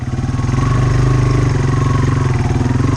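Yamaha TW200 motorcycle engine thumping while riding, a close, loud single-cylinder putter with a fast even pulse and steady throttle throughout.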